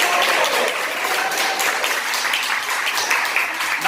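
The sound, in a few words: children's applause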